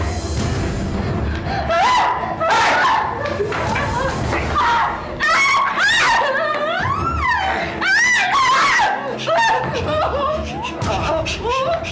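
A woman screams and wails repeatedly in an Indonesian TV drama, her high, sliding cries loud and close, mixed with sobbing and breathy moans over about twelve seconds.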